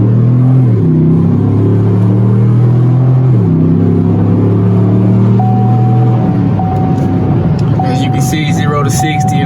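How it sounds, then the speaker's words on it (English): A 2020 Chevrolet Suburban RST, an 8,100-pound SUV, accelerates hard from 0 to 60 with a loud, steady exhaust drone that climbs in pitch through several gear shifts, heard up close from inside. "I wanted to do a 0-60 to 60 pull for you guys just to show you how fast the Suburban is"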